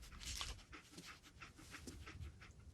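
Dogmeat, the dog companion in the post-apocalyptic video game Fallout 4, pants in quick, rhythmic breaths, soft and fairly close, with no other sounds over it.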